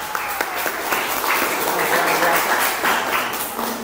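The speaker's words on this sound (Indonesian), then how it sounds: "Beri aplaus dulu deh buat kalian semua" A class of students applauds together, steady dense clapping held for several seconds at moderate loudness, with some voices mixed into the clapping.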